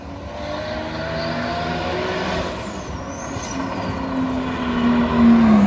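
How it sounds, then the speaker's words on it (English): Race diesel truck running on the track at Bira Circuit in Thailand, a steady loud engine drone with a rising whine near the end, no voices. "Look at this race diesel truck on the track too"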